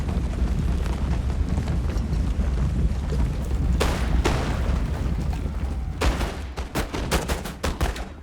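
Musket volleys ring out in the Empire Total War strategy game, with a sustained roll of massed gunfire and booming, then a ragged burst of sharp, loud individual shots near the end.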